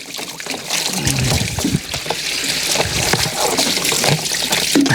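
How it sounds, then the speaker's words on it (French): Water runs and splashes steadily over plastic beehive frames as they are rinsed one by one, a close, continuous trickle with occasional knocks of plastic. "Après je vais les rincer comme ça."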